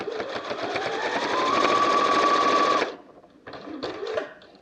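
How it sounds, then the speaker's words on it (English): Home sewing machine stitching along a line through fabric for washable wipes, a steady loud whirring run that stops abruptly, followed by a few short bursts of stitching. "just run 2 stitches, and then turn it again 45 degrees to carry on down the line"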